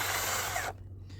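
An improvised setup spins against a hole to enlarge it by friction, a steady harsh grinding whir that runs loud and close for most of the moment before cutting off abruptly.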